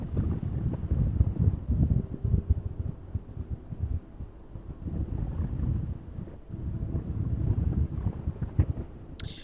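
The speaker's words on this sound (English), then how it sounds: "That wind is taking all of that heat away this evening." Steady wind gusting across an open airport apron in the evening, a dense low rumbling roar with buffeting against the microphone, rising and easing in waves with no talk.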